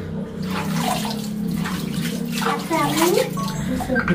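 Water splashes and pours continuously over a bride during a wedding bathing ritual at home, a steady close wash of sound with people talking over it throughout.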